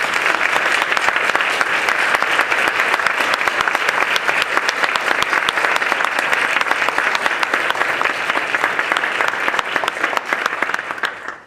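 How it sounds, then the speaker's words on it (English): Steady, sustained applause from an audience at a bar association Law Day program, honoring the students; dense, even clapping fills the room for about eleven seconds and tapers off at the very end. "Let's clap for the students again."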